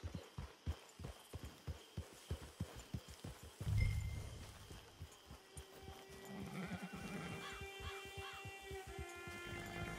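Horse in the Red Dead Redemption 2 game: a steady run of clip-clopping hooves on the ground, then a loud snort and drawn-out whinny, with game ambience and music underneath.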